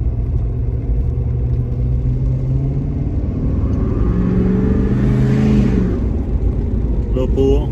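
A tuned Ford F350 pickup with a 6.7 Powerstroke diesel accelerating hard, a loud continuous low engine roar that climbs in pitch and swells throughout, heard from inside the cab with a voice speaking over it.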